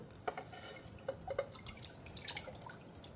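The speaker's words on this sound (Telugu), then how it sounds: "మనం ఎందులోనైతే పరమాణం చేసుకుంటామో అందులో నీళ్ళు పోసుకోవాలి" Water is poured into a cooking pot while rice kheer (paramannam) is prepared, giving faint, scattered drips and small splashes with no talking.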